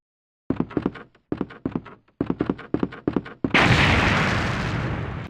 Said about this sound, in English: for an explosion like that would have rocked somebody else out of their chairs.